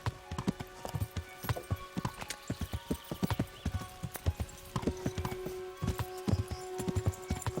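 Horse hooves clip-clop steadily in Kingdom Come: Deliverance, a brisk, even gait of close, distinct hoofbeats running through the whole stretch with a brief whinny-like tone midway.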